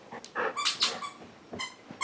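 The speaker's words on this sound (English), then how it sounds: "Now they're both squeaking their toys." Dogs squeezing squeaky toys indoors, giving several sharp, high rubbery squeaks in quick bursts close by, with short pauses between them and no talking.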